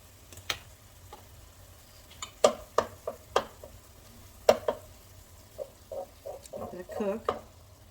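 Chili paste, about two tablespoons, cooking in the center of a pot for a one-pot meal, with a series of sharp stirring scrapes and soft sizzling taps, moderately close and fairly quiet, with no talk.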